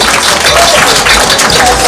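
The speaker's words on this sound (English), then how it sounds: "Can you give her another round of applause?" Loud, dense audience applause at a Maafa commemoration in Georgetown, Guyana, filling the whole moment with close, continuous clapping.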